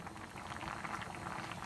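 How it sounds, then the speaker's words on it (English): Water boiling in a steamer pot on the stove, ready for steaming frozen vegetables: a steady, close bubbling and hissing that holds evenly throughout, with no voices. "I have a little bit of water boiling in my steamer pot"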